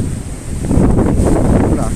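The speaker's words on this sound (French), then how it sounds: "Voilà, il y a du vent." Wind buffets an outdoor microphone in a steady low rumble that swells louder after the first second and keeps blustering to the end.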